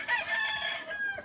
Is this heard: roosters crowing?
yes